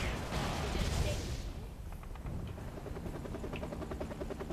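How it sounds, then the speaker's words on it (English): Helicopter rotor chop in the Battalion Wars video game, a steady low thrum under game effects and distant explosions, with a faint rhythmic beat pulsing through. "once you kill that last guy, then you can send your helicopter."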